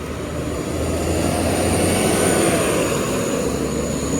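A train replacement bus roars past nearby, its engine drone and rushing noise loud and sustained throughout, with no talking.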